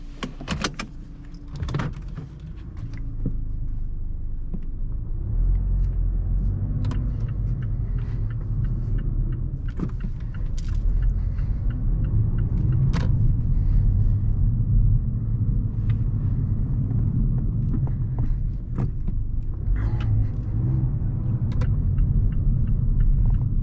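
A 2017 Mazda 3 GT being driven, heard from inside the cabin: a steady low engine and road rumble runs throughout, with scattered faint clicks and knocks.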